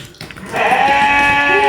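A Garut sheep on a breeding farm gives one long, loud, wavering bleat close by, starting after a short quiet moment and lasting to the end.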